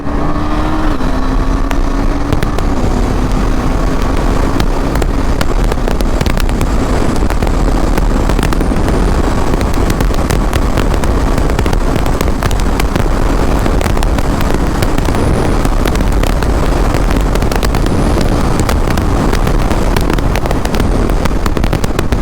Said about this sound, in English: now I use the auto blipper and I shift it down